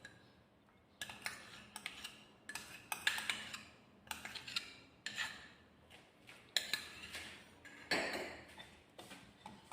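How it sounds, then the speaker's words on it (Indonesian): A utensil stirs cake batter with melted butter in a bowl, making repeated clinking, scraping taps in an irregular rhythm, close and fairly quiet, with brief pauses between strokes. "Kemudian kita aduk sampai tercampur merata ya"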